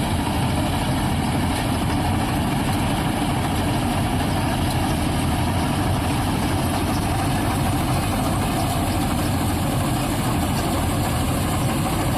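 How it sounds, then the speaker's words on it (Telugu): A tractor engine idles out in a farm field with a steady, continuous low rumble that stays constant and fairly loud throughout. "మా దగ్గర డబుల్ డోర్ ట్రాక్టర్లు ఉన్నాయి కాకపోతే ఇది వేరే ఊరి నుంచి వచ్చింది"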